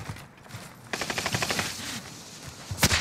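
Automatic gunfire in the Call of Duty video game, a rapid burst of shots running through the middle of the clip with louder single cracks near the end, amid battlefield noise.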